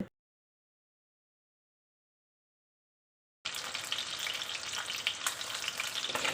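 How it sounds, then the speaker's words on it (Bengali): Fish frying one piece at a time in oil in a wok: after about three seconds of silence, a loud, close, continuous sizzle and crackle starts and holds steady to the end. "এক এক করে মাছগুলো কড়াইয়ের মধ্যে দিয়ে ভালো করে লাল লাল করে ভেজে নিতে হবে"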